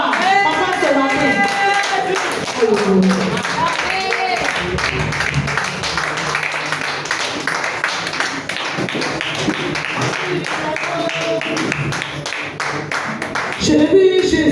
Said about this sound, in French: Acclame fortement pour recevoir papa ce matin.